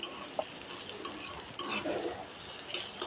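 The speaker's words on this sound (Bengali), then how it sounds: "পেঁয়াজ হালকা ভাজা হয়ে গেছে, কিছু কাঁচা লঙ্কা কুচি অ্যাড করে দিচ্ছি।" Onion and chopped green chilies frying in a pan, stirred with a utensil: repeated scrapes and light metallic clinks over a faint background sizzle.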